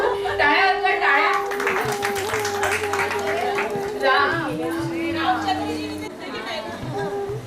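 Audience applause at a women's community program with judges: scattered hand claps patter throughout, mixed with crowd chatter and someone speaking over them.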